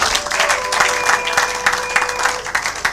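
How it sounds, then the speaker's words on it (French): A congregation claps in steady rhythm during a French-language church worship service, producing dense, lively applause that carries on without a break. "Acclamez pour la gloire de notre Dieu, de notre Seigneur."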